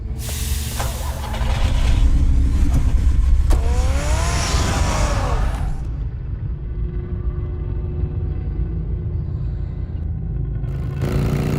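A car engine rumbles steadily in Batman: The Telltale Series, swelling louder early on with a rising whine, then settling into a continuous low drone that runs to the end.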